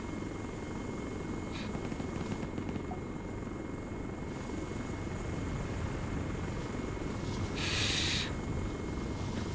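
Helicopter in the video game Arma 3 flying steadily with a constant low rotor and engine drone throughout, close and continuous, with a brief brighter whoosh near the end.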